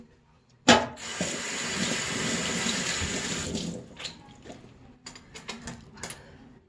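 Leftover sumac-soaked water poured through a kitchen strainer, starting with a sudden splash then a steady, close trickle of liquid for a few seconds before tapering into scattered drips and clinks.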